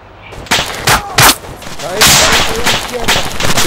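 Gunfire in the Arma 3 video game during combat in an Afghan-style village, with several sharp shots around the first second and denser bursts continuing, partly under a man's radio-style talk.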